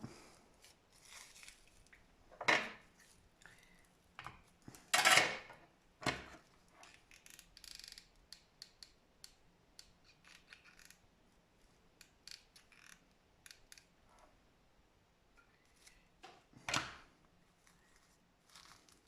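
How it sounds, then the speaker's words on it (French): Scissors snip through recycled material to shape a flower lid, a few sharp close cuts spaced seconds apart amid soft handling rustles in a quiet room. "Je vais couper là."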